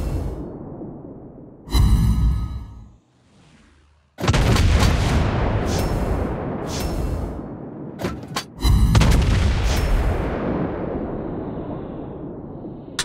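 Naval artillery from a Soviet tier 6 cruiser, the Molotov, in the World of Warships Blitz game: loud booming salvos with long rumbling tails, one burst, a brief lull, then a sustained barrage and further heavy blasts.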